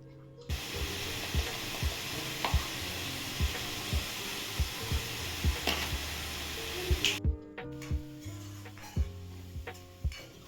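Chopped onion sautéing in a pan with salt for Mumbai-style egg bhurji, a steady broadband sizzle running throughout with frequent sharp clinks and scrapes of a spoon against the pan, slightly quieter and more clattery near the end.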